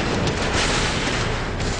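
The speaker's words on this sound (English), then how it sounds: "The F-15 fires a barrage of rounds into the peak." An F-15 fighter jet fires a barrage of rounds into a mountain peak, a loud, dense, unbroken roar of rapid gunfire with no gaps between shots.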